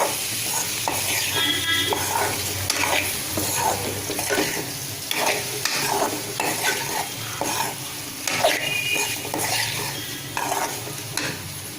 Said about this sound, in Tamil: மிளகு சேர்த்து நல்லா கிளறி விட்டுட்டு கட் பண்ணி வச்சிருந்த எக்கு சேர்த்துறேன். நல்லா மிக்ஸ் பண்ணி விட்டுருவேன்.